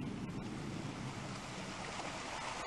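A shallow brook runs beside a railway line at Bytham, giving a steady, unbroken rush of moving water that stays even and fairly soft throughout, with a faint breath of wind and no voices.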